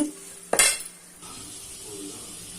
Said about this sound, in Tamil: இப்போ நம்ம நல்லா வதக்கிட்டோம்